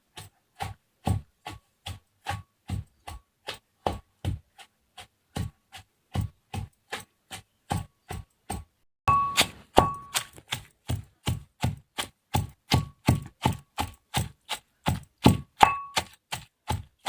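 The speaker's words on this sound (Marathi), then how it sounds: "आता मुसईने छान असा बारीक करून घेऊ ठेचा" Green chillies and coriander pounded with a pestle into Khandeshi-style thecha, a steady run of sharp ringing knocks about two per second, close and loud, with a short pause midway and no talking.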